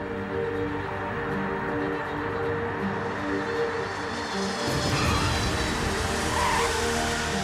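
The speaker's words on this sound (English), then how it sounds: "It's time for the Antonov's brakes to do their job." An Antonov cargo plane touching down and braking hard on its carbon brakes produces a loud, continuous broadband roar that swells slightly in the second half, close and unbroken throughout.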